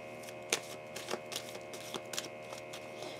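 Tarot cards shuffled by hand indoors in a steady run of soft riffling flicks and slaps, several sharper snaps standing out, close and fairly quiet, with no talking.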